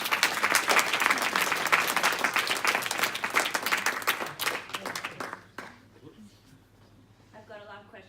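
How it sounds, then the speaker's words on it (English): An audience breaks into loud, sustained applause for a featured artist, the clapping filling the room for several seconds before fading out as a voice begins talking. "Can we clap for you first?"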